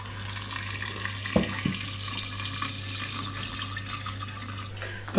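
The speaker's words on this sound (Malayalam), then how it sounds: "ഞാൻ ചെറു ചൂടുവെള്ളം അകത്ത് ഒഴിച്ചിട്ട്" Warm water is poured into a homemade pineapple wine mixture as a steady, close stream of running liquid with a couple of brief splashes. No one speaks.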